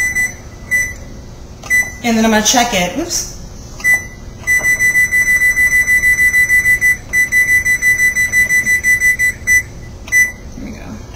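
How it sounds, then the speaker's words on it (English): A kitchen timer, set for 30 minutes while a spaghetti squash cooks, beeps in a long run of short, bright, evenly spaced chirps as its buttons are pressed, close by and clear, with a person speaking over the start. "So I'm going to set my timer for 30 minutes"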